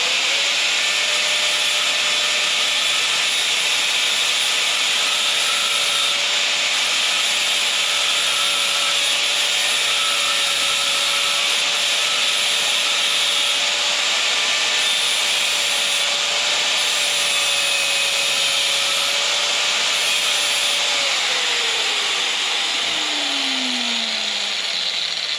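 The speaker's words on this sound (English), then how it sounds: "I guess I'll do a little bit here with the grinder." An angle grinder grinds a metal part on a Chevy in a garage, a steady high whine with continuous abrasive hiss lasting over twenty seconds, then the motor pitch drops as it spins down at the end.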